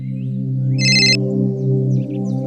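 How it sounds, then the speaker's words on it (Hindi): Mobile phone ringing with a bright electronic ringtone burst over a loud, steady low hum, the ring short and clear in the middle of the sustained drone. "बहुत देर से वहीनी का फोन आ रहा है"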